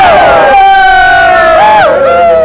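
Loud supporters' cheering squad chanting in unison right up close, sustained and strident with a rising and falling vocal line throughout.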